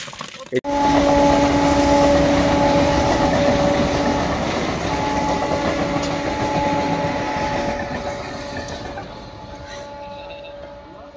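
A rail trolley rolls along a railway track at a rail project site where ballast packing and track alignment work is underway, producing a loud, close rumble with clacking and a faint whine that gradually fades toward the end.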